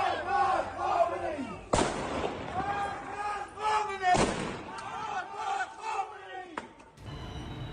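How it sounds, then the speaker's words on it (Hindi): A large crowd of street protesters in Bushehr, Iran shouts and chants loudly, broken by three sharp, isolated gunshots spaced a few seconds apart. "खामेनेई की फोर्स उन पर गोली चलाती नजर आ रही है।"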